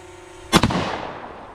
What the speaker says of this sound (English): Grab the shotgun that you intend to pattern out of, whatever load you're going to try, head to the range, and you guessed it, let it rip, Tater Chip.